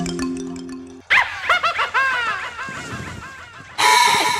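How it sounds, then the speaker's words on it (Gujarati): A bell rings in a comic school scene. A steady tone and a run of squawking, honking noises come first, then a short, loud, buzzing ring bursts out at the end. "ઘંટે વાગી ગઈ."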